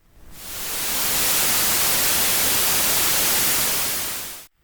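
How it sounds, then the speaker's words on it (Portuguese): Steady, loud hiss of white noise that fades in quickly, holds evenly across the full range for about four seconds, then cuts off abruptly. "O nome dele é ruído branco"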